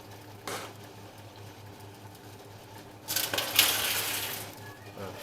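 A Tomra reverse vending machine at a Netto supermarket in Berlin takes in a 1-litre deposit bottle, a brief whir near the start giving way to a louder mechanical rattle and rolling clatter in the second half, with store background around it.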